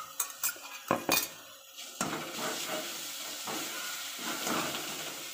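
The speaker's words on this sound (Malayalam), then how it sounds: "വെളുത്തുള്ളി ഇഞ്ചി പച്ചമുളക് ഇത് ചതച്ചതും കൂടെ ചേർത്തിട്ട് നന്നായിട്ട് വഴറ്റിയെടുക്കാം" Onion sautéed in a pan with crushed garlic, ginger and green chili, opening with several clanks of a metal spoon against the pan, then a soft continuous sizzle with light scraping stirs.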